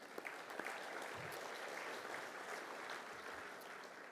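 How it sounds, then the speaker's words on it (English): Luncheon guests at the North Harbour Club Olympic luncheon applaud together in a steady, dense round of clapping that holds evenly for several seconds at moderate volume. "why don't you give yourselves a round of applause"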